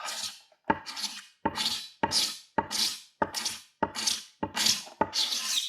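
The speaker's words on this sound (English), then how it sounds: "So I'm just using my scraper with one of those nasty razor sharp snap blades in it." A scraper with a razor-sharp snap blade scrapes the wooden body of a Squier Classic Vibe 50s Telecaster, eight close rasping strokes in a steady rhythm, each ending abruptly before the next.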